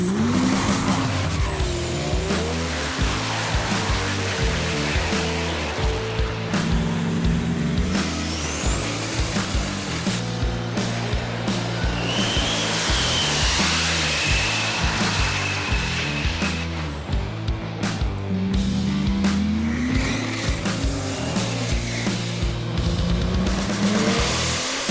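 High-horsepower diesel pickup trucks, some beyond 2,000 horsepower, drag race on an eighth-mile strip at an evening event, their engines roaring loud and continuous with shifting revs and whistling turbo spool throughout.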